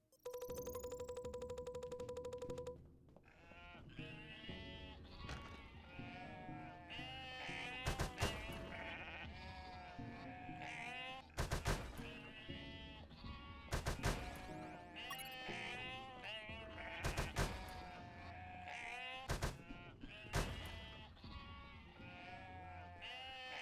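Sheep bleating in the video game Unmetal: repeated wavering, nasal bleats layered over each other, loud and close, punctuated by sharp whacks, after a brief opening tone.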